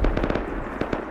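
C4 charges detonating during a raid in the video game Rust, a rapid series of sharp, booming blasts in quick succession, loud and close with no talking over them.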